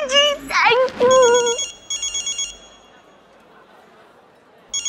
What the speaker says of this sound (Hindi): बीजी, स्वामिनी जी का फोन है, आप बात करेंगे?